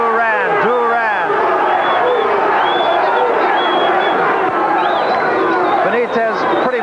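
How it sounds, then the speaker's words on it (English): A boxing arena crowd on its feet during a Roberto Duran versus Wilfredo Benitez fight, a dense roar of voices with rhythmic chanting running continuously and loudly throughout. "Crowd on its feet. Duran, Duran."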